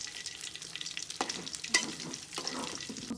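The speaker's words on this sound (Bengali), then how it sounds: "এখানে এগুলো ভেজে নিব" Food frying in a pan for iftar, a close, continuous crackling sizzle with scraping stir strokes and occasional louder pops throughout.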